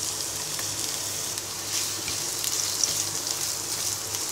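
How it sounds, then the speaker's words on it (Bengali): Chopped onions fry in soybean oil in a wok, giving a soft, even sizzle that holds steady throughout with no talking. "পেঁয়াজটা ব্রাউন কালার করে ভেজে নিব।"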